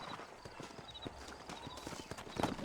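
Horses' hooves clip-clop in Red Dead Redemption as a wagon team moves through New Ulster, a quiet steady trot of overlapping hoofbeats under faint ambient noise, without speech.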